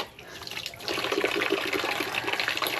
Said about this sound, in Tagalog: Mahina pa yung tubig